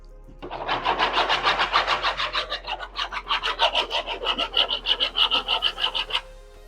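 A tool is scraped back and forth across a coating on a commercial ceiling with exposed plastic insulation, making a close, rasping scratch in rapid rhythmic strokes for about six seconds with no talking.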